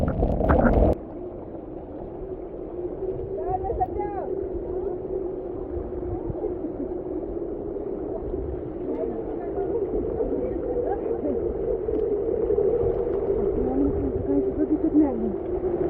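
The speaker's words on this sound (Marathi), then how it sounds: "वाऱ्याचा आवाज" Wind blowing across the hilltop of Rayreshwar fort during the rainy season, a loud, steady low roar and rumble of buffeting gusts throughout, with a faint voice briefly audible underneath.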